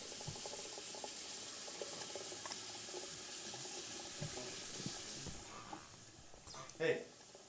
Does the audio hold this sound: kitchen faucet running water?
yes